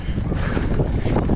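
Gusty wind buffets the microphone while a bike climbs a steep, bumpy green trail, a dense low rumbling roar with uneven swells throughout.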